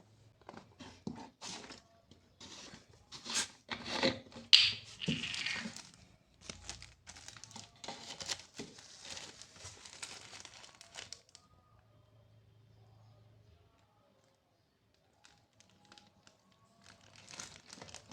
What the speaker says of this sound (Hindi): इस पेट्रोल को खोल लेते हैं।